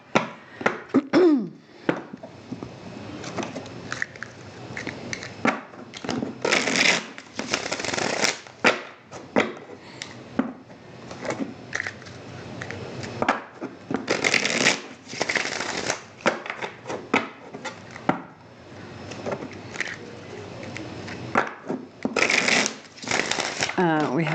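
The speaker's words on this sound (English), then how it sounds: "Let me go ahead and shuffle some more before we get into the reading." Repeated bursts of tarot cards being riffled and shuffled, close up, with pauses between rounds and occasional soft talking and throat noises.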